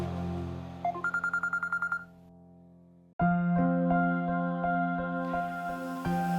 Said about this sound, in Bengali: হ্যাঁ, ফোনটা বাজতে